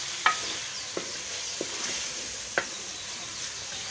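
Spices frying in ghee in a home kitchen, a soft continuous sizzle with a few light scattered clicks of a spoon stirring, quiet and close, no voices.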